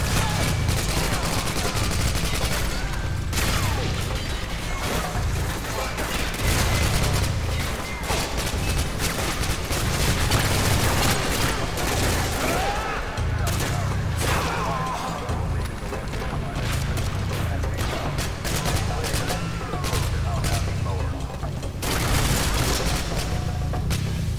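Gunfire in the video game Call of Duty: Modern Warfare 2 rattles in dense bursts over loud combat noise and music, continuing throughout the stretch.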